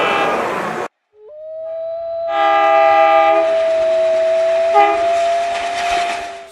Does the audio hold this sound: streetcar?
yes